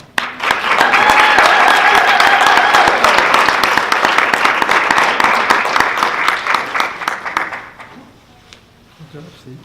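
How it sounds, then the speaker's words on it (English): A big round of applause for a motivational speaker after his talk, loud and close, swelling quickly, holding several seconds, then tapering to scattered claps and quiet. "one more big round of applause for Steven"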